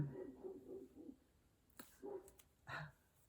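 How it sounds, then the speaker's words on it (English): Several short dog barks at a distance, faint and scattered, with quiet gaps between them and no talking. "don't know if you can hear the dogs out there barking."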